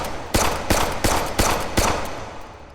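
Gunfire in the VR shooting game Hot Dogs, Horseshoes and Hand Grenades: five loud, sharp shots at a steady, slightly spaced rhythm, each with a short ringing tail, no talk over them.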